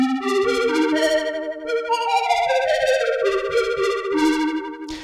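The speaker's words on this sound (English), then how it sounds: "The next preset I want to show you is called Wispy Key." Glassy, wispy synth keys from an Arturia MicroFreak using a super square wave in its super wave engine, playing a flowing chordal melody with shimmering overtones, sustained and moderately loud, with no talking.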